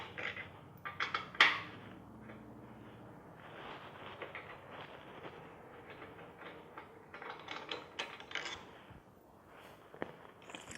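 Screws being backed out of the gas cap on a 2016 Victory Cross Country motorcycle, giving soft clicks and small metallic rattles that come in scattered bursts, with one louder clink near the start.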